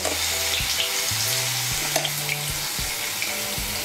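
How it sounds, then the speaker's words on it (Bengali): Two medium potatoes, cut and seasoned with salt and a little turmeric, fry in a pan with a steady, fairly loud sizzle, while light music plays over it. "দিয়ে আলুগুলোকে আমি ভালো করে ভেজে নেব।"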